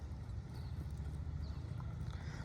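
Hooves of a trotting horse being lunged during training beat in a quick, even clip-clop rhythm, moderately close and steady throughout with no talk.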